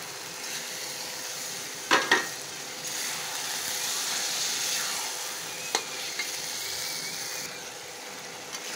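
Chicken pieces added to a pan of well-cooked spiced masala with cumin powder sizzle steadily throughout, with a couple of sharp clinks of a utensil against the pan early on.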